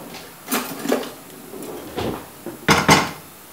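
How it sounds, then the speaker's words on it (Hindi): A utensil clatters against a pan on medium heat as a fried mixture is stirred while milk is poured in for chicken bread, giving a few sharp scrapes and knocks spaced irregularly, loudest near the end. "साथ साथ हम इसको हिलाते जाएंगे और दूध ऐड करते जाएंगे।"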